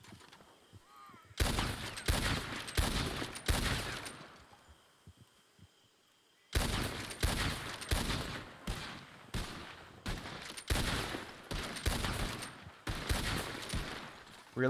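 Rapid video-game gunfire in a Wild West roleplay gunfight, loud close bursts of shots in two volleys separated by a quieter pause, with a voice briefly speaking.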